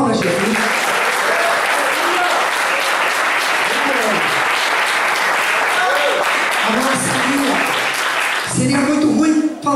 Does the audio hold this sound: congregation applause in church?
yes